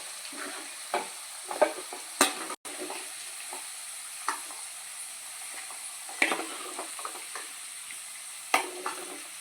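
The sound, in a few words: prawns frying in oil for prawn pickle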